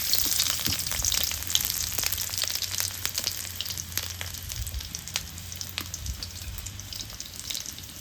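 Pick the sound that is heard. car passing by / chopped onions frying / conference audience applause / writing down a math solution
chopped onions frying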